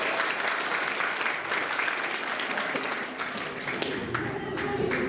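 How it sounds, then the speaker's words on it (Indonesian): An audience applauding at a library inauguration, with steady dense clapping from a crowd indoors that holds at an even level for several seconds. "Tepuk tangan buat mereka nih."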